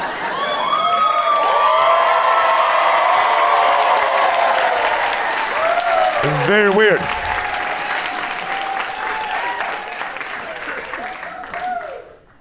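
An audience claps steadily through a comedy club, loud and sustained for several seconds, with scattered cheers and someone talking over the clapping until it fades out at the end.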